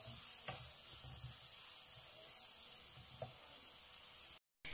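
Chopped vegetables for veg cutlets are stirred in a pan, making a quiet frying hiss with soft, irregular scrapes of a spoon, and a brief drop to silence just before the end.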